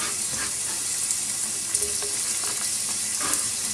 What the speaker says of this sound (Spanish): Echamos el bacon. Lo vamos a dorar un poquito. A sofreír ahí un poquito.